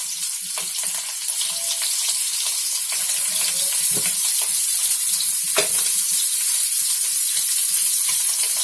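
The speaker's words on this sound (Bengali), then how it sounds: "তেলটা মোটামুটি গরম হয়ে গেছে, এবার আলুগুলোকে হালকা করে ভেজে তুলে নেব" Potato pieces fry in hot oil, a steady broadband sizzle running loud and even the whole time, with a couple of brief knocks or stirs partway through and no voices.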